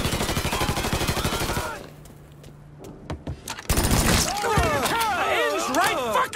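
Rapid automatic gunfire in Mafia III, dense bursts of shots up close, a brief lull with a few single cracks, then heavy firing again while a voice shouts over it.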